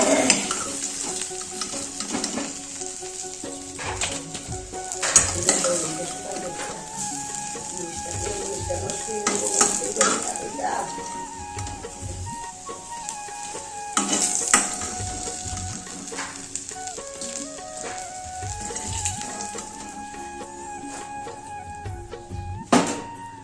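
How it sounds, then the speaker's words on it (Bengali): Fried potatoes for a fish curry being lifted out of a pan of oil, with scattered clinks and scrapes of a utensil over a soft ongoing sizzle, plus some faint background tones. "আলু হয়ে গেছে এখন নামিয়ে নেবো আলুগুলো"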